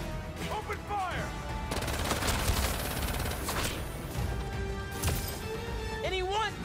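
Rapid bursts of gunfire in the Marvel's Spider-Man 2 video game, dense and continuous under game music and effects, with voices speaking between the shots.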